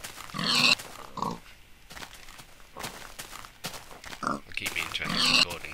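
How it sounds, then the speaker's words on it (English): A pig in the Minecraft video game lets out several short grunts and snorts at irregular intervals, fairly close and clear, mixed with light game movement sounds and no talking. "High jumping pig!"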